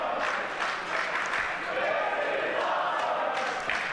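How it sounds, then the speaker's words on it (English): A wrestling crowd at a Mecca IX championship match chants steadily, a dense roar of many voices sustained throughout, with a commentator's voice faintly over it. "The crowd is chanting, "This is awesome.""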